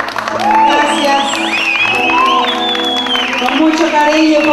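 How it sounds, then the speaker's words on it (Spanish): Guests at a wedding celebration applaud and cheer loudly, with steady clapping mixed with whoops and shouts and amplified music or voices running underneath. "Un aplauso para ellos"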